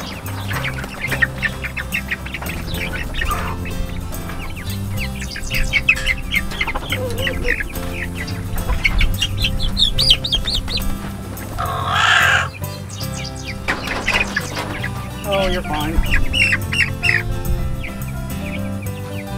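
A flock of chickens clucks and squawks continuously nearby, with overlapping calls and occasional louder cackles.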